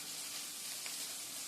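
Tortilla chips frying in a pan for migas give a faint, even, hissing sizzle that holds steady throughout, with no voices.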